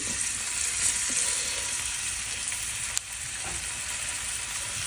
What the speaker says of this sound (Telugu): స్టవ్ మీద వేసుకొని వేయించుకుందాం.